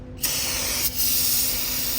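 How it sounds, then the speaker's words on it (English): A close aerosol can spraying in a steady loud hiss on the engine of a Ram ProMaster City 2.4 with a broken manifold bolt, with a brief break in the middle before the spray resumes. "little bit of spray action."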